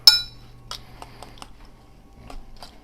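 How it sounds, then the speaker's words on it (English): Eggs, sugar, milk and rice for rice pudding being stirred: a utensil clinks against the bowl, one sharp tap first, then a string of light scattered clinks, close and clear. "And I'm going to just stir this up."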